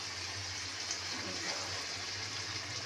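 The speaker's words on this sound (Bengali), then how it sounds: "সামান্য আমি একটু জল দিয়ে দিলাম, কারণ আলুটা একটু সিদ্ধ হওয়ার জন্য" A small splash of water pours steadily into a pan of fish curry with potatoes, a soft, even gush that continues unbroken.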